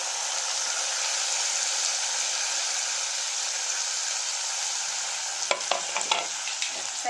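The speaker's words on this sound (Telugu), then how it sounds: "ఒకసారి కలుపుదాం టమాటా." Chopped tomatoes sizzle and fry with onions in hot oil in a pan for a village-style egg curry, a steady loud hiss, followed near the end by scraping clicks of a spoon stirring.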